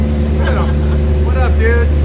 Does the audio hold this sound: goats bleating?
no